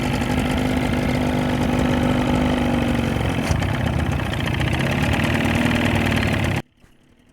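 A restored old fishing boat outboard motor runs steadily and loudly at a constant idle-like drone for about six and a half seconds, then cuts off abruptly into near silence.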